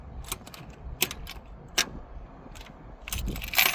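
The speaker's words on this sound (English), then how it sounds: "I hear a little click in the back, so maybe that's a solenoid or a start relay or something." Several sharp mechanical clicks come from the starter solenoid or relay at the back of a New Holland RG80 motor grader that will not crank, spaced irregularly over a quiet rumbling background.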